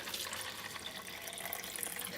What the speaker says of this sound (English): So I'll go ahead and fill the water